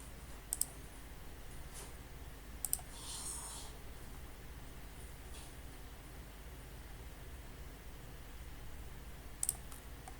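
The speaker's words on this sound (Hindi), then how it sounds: "इसको क्लिक कर दें।" A computer mouse clicks a few times while applying online for a China visit visa: sparse, sharp single and double clicks spaced seconds apart over a steady low background hiss.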